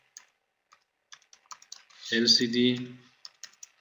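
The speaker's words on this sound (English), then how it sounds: "I type here." Typing on a computer keyboard gives scattered light key clicks, near and fairly quiet, broken by a short stretch where someone speaks.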